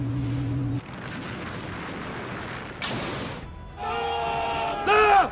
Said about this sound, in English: Blow up that vehicle.